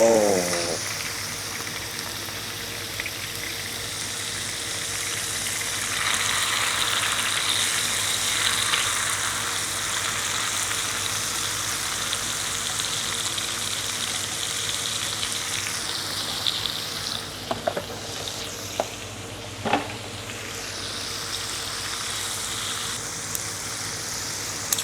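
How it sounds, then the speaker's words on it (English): Kimchi frying in pork belly fat on a Korean barbecue grill, a loud, continuous sizzle heard up close with occasional pops and a brief exclamation. "So I'm going to cook it with all this pork fat in the middle."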